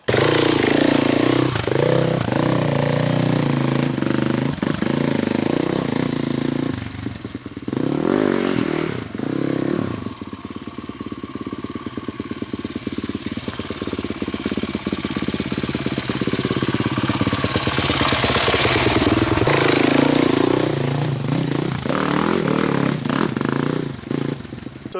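Enduro dirt bike ridden fast over road obstacles such as ruts and rocks, its engine a loud steady drone with rattling clatter and bursts of revving throughout, close by with no talk.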